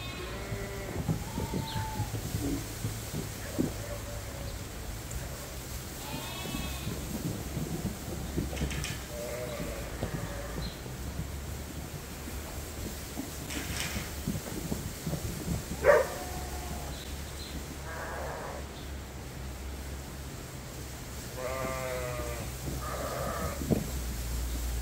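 Lambs and sheep bleat repeatedly in a farm pen, several overlapping calls near and far over steady rain and barn rumble, with occasional thumps.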